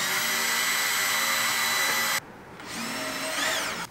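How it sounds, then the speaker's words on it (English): A small electric drill bit boring into the steel bucket of a Kubota BX23S tractor loader: a loud steady whining drone that cuts off abruptly, then resumes more quietly with a rising, wavering pitch. "Gonna start with small drill bit, then probably step into that step bit."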